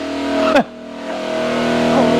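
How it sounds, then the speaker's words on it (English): Big hot rod engine running on a dyno in a custom shop, a loud steady idle with a brief sharp blip of revs, then settling back to a rumbling drone. "gets me smiling when I hear those engines."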